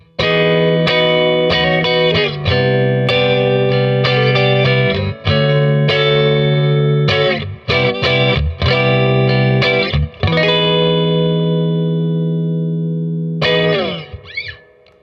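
A Fender Japan Jazzmaster electric guitar in the middle pickup position, both pickups wired in parallel, plays loud, sustained chords and note runs through distortion and chorus effects, with brief pauses and a final ringing chord.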